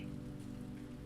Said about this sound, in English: Outside, the rain continues, weaving a gentle percussive lullaby.